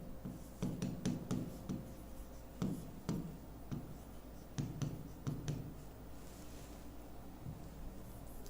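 A pen scratches across paper in short bursts of close handwriting, with strokes and small pauses between words, before the sound fades to quiet near the end; nobody speaks.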